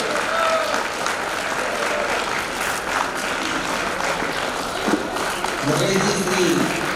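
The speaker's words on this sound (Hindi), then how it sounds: "जोरदार तालियां निवेदन है आप सभी लोगों से।" A seated crowd gives steady, loud applause to welcome guest Mohan Munshi at a gathering, continuous clapping with voices mixed in and someone speaking over it toward the end.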